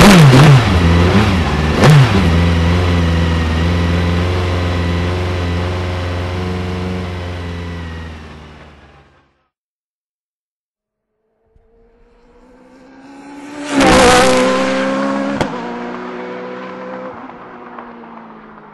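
A Caparo T1 road-going race car engine revs hard and pulls away loudly, harmonics climbing through the gears for about nine seconds, then silence before a second surge of acceleration swells up close.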